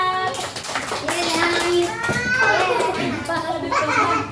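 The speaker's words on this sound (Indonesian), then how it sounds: "Tepuk tangan buat Dea." Young children clapping for a girl named Dea during an Indonesian storytelling session, scattered uneven claps mixed with lively kid voices and chatter close by.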